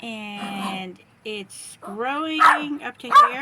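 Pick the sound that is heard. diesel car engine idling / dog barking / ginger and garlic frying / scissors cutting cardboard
dog barking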